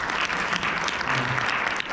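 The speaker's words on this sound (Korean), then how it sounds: "박수 한번 치고 갈까요?" Seminar audience giving a short burst of applause, dense steady clapping from a room full of people, close and even throughout.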